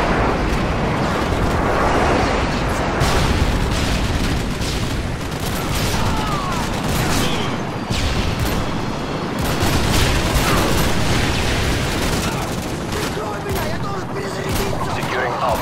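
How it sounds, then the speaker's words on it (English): Predator missile and Harrier airstrike explosions in the game MW2 on the Terminal map, a dense and loud nonstop wash of gunfire, blasts and rumbling battle noise with no clear breaks. "Friendly Predator missile inbound. Friendly Harriers inbound."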